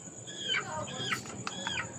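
Small young chickens cluck and chirp in a few short, bright calls close by, over a faint steady background hiss.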